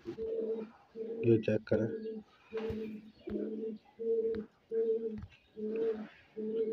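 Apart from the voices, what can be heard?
Teddy Golden pigeons cooing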